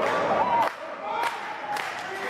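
Crowd at a wrestling match cheering and shouting in a large hall, a broad roar with sharp bursts and whoops, heard beneath a commentator talking.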